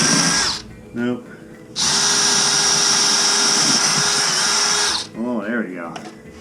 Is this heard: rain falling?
no